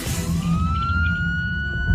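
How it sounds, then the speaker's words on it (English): A siren wails, its tone rising and holding steady, heard from a moderate distance over low background rumble. "at 11 o'clock, sirens break the tranquil peace of the warm summer night."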